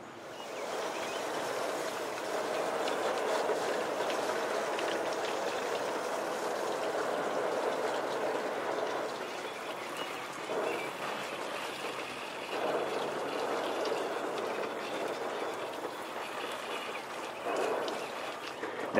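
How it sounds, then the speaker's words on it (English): Water sprays steadily over larch bonsai trees in pots to rinse muck from the soil, a continuous hissing wash that briefly drops and resumes in short bursts. "let's give them a good rinse to kind of clean off some of the muck that was in that soil"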